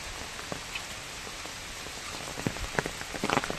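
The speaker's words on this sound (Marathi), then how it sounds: "पाऊस पडतोय जबरदस्त आणि आपण एकदम आतमध्ये आहोत जंगलाच्या" Heavy rain falls deep in a forest, with a steady hiss of drops on leaves and irregular louder splats that build toward the end, and no voices.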